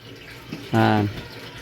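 A kitchen sink tap gushes briefly, a single close splash of running water lasting about half a second. It is set against a quiet room background.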